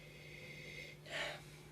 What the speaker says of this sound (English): So let's give it a sniffy sniff.